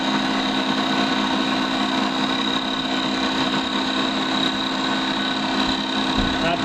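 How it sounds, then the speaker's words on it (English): A woodworking profile cutter and repeater machine shaves a wooden piece with its knife, producing a continuous, loud mechanical drone with steady motor hum and cutting noise throughout. "So it's a profile cutter, and it's also a repeater, and it's a wonderful machine."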